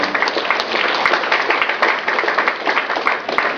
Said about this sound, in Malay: Di semua kita bagi tepukan tahniah kepada anak-anak kita.